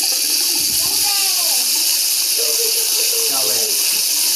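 Steady hissing spray of a running shower fills the clip, loud and close, with voices talking briefly over it.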